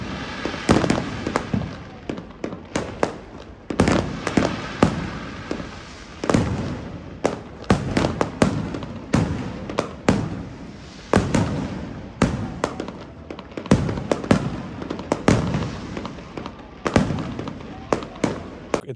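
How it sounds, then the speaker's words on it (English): New Year's Eve fireworks crack and boom all around in a steady barrage of sharp bangs, some close and loud and others farther off, with voices faintly in the background. "because I was determined to film the fireworks, which I did"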